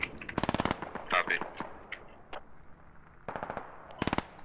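Automatic gunfire rings out in the SquadOps military shooter game, with several rapid bursts of close shots near the start, a scattered crack or two in the middle, and two more quick bursts toward the end.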